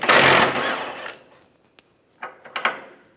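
Power tool with an 18mm socket whirring briefly to remove a rear bumper end bolt on a 2007-2013 Chevrolet Silverado 1500, followed by quiet clicks and a couple of short metallic rattles near the end.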